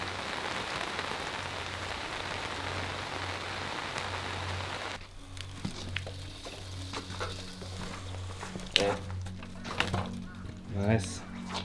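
Rain falling in an abandoned park in northern Japan, a dense steady patter for the first five seconds, then lighter scattered drops with a low hum beneath and a few sharper knocks.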